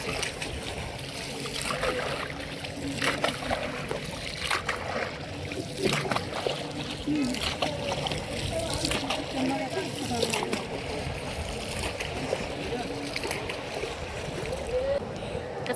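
Water splashes and churns around a boat on a river during a safari ride near the Narsinhwadi Datta temple, a steady wash of spray under frequent voices talking.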